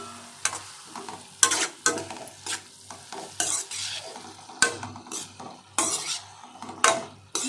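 A banana stem poriyal stir-fry is stirred in a hot pan. A metal spatula clatters and scrapes against the pan in quick, irregular bursts over a soft sizzle, close up and with no voices.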